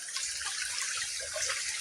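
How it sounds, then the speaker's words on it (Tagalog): Flowing water of a mountain stream, a steady, continuous broadband rush with no gaps, moderately loud and alone. "So, ngayon mga kababayan, nandito na kami sa Batis."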